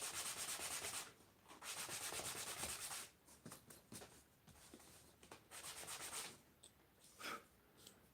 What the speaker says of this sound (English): Now sanding a little bit.